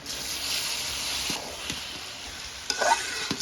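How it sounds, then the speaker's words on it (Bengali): Raw rice and prawns with sugar and spices stirred in a hot pan for prawn biryani give a continuous close sizzle with a few scraping knocks near the end, and no talking. "চিংড়ি মাছটা ভালো মতন কষান নিয়ে গেছে, এখন চাউল দিয়ে দেবো"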